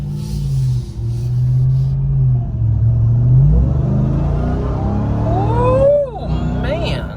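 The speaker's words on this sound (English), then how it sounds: "You can hear that the supercharger spool up really easily." Supercharged Hellcat V8 in a 2021 Ram TRX pickup drones under light throttle, then rises with a climbing supercharger whine as the truck accelerates, heard from inside the cab.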